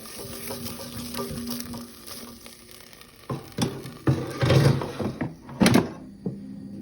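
Potato fries being stirred in a Karaca air fryer, with a basket sliding out, rattling and clunking as the fries are tossed, and a few sharp knocks near the end over a faint background hum; nobody talks.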